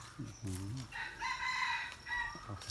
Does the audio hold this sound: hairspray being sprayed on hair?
no